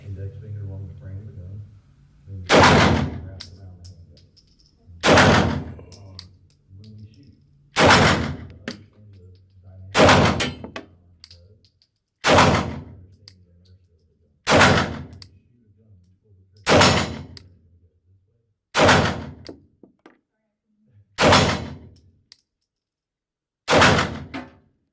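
Ten loud, sharp Glock 45 MOS pistol shots ring out at a steady pace about two seconds apart, each with a short echoing tail, while a person talks quietly between them.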